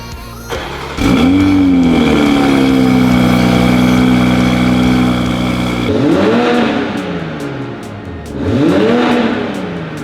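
A 2020 Toyota Supra with a Wagner catted downpipe cranks and catches, then holds a loud steady rev before dropping and revving up again twice, close by.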